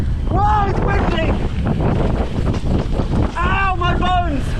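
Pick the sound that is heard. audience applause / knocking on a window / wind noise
wind noise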